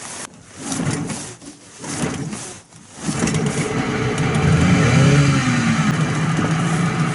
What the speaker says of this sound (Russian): Валерий Батькович, после утонутия первый раз мотор заводим.